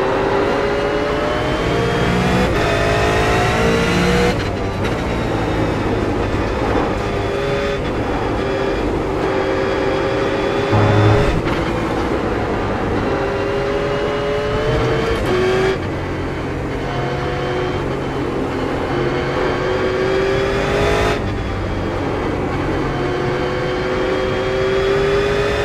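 A V8 race car engine in a racing video game holds a loud, steady drone that rises through the gears and drops sharply on each shift, with several upshifts and downshifts over a sustained lap.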